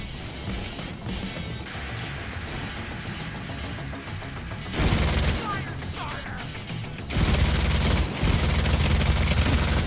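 Gunfire in the shooter Division 2, bursts of loud rapid shots and crashing impacts, with sharp surges near the middle and the end over dense game noise.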